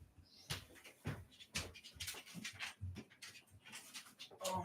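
A puppy pants indoors in quick, rhythmic bursts of breathy huffs, close and fairly loud, with no talk.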